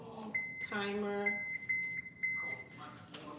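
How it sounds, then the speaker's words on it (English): A kitchen timer beeps as it is set for lasagna going into the oven: a series of short, high electronic beeps, some quick and some spaced, with a person talking around them. "Timer"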